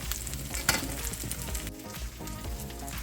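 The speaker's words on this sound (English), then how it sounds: "Our chicken patties are browning up." Steady loud sizzling of chicken patties frying in a pan, with a sharp crackle or two popping out early on.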